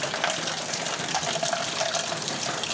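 Heavy, nonstop evening downpour, a steady broadband hiss of pouring rain close by, continuous and even in level with no voices.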